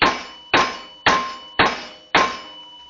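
A pan bangs down repeatedly on raw chicken to pound it flat, five loud, evenly spaced metallic clanks about half a second apart, each ringing briefly before the next strike.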